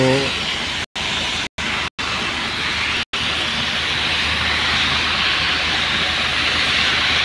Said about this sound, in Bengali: ডিউটিতে আসার পর দেখলাম যে বৃষ্টি হইতেছে